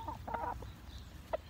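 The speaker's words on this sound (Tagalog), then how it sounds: "Yan yung mga manok ko." Backyard chickens give soft, short clucks, a few quick calls close together followed by a lone cluck, faint over a low background hum.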